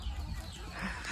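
Hens and a rooster cluck in a short, close burst, with soft murmuring sounds around them.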